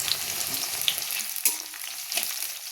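Chopped capsicum with whole green chilies frying in a hot pan, a steady close sizzle with a few brief clinks and scrapes of stirring.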